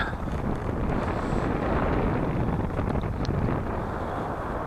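Steady wind buffeting the microphone while fishing for grayling on the Yenisei river near Tatyshev Island, a constant rough roar that masks everything else.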